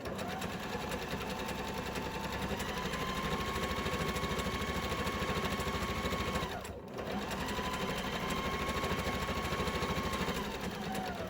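A sewing machine runs steadily while stitching the lining of a hobo tote bag, a close, even mechanical whir that briefly pauses and slows before resuming at the same pace.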